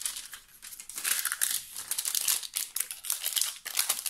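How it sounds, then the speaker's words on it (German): Top plastic film is peeled off a diamond painting, giving a continuous crisp crackling and crinkling of thin plastic up close for several seconds, with no talking. "jetzt kann ich auch diese obere Folie gut abziehen"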